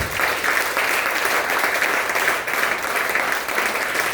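Steady, dense applause from a church congregation fills the whole stretch, a continuous wash of many clapping hands with no break.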